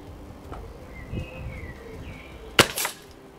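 A West Lake SMK B2 air rifle fires once, a sharp crack followed by a short echoing report from the target 25 meters away, heard over a quiet outdoor background.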